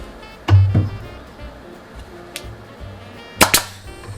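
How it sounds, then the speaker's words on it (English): A pneumatic nail remover fires while driving nails out of reclaimed pine flooring boards, giving a few sharp, loud pops: one pair early on and a close double burst near the end, with quiet between. "the great things about this pneumatic nail remover is you can use the nozzle"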